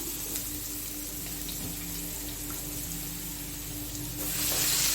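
Steady crackling sizzle of ginger and garlic frying in hot oil with cumin, swelling louder near the end as more goes into the pan.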